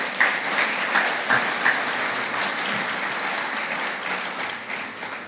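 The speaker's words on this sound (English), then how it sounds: "let's give a round of applause to all the award winners" An audience at an annual preservation awards ceremony applauding the award winners, a steady, moderately loud wash of clapping that slowly thins toward the end.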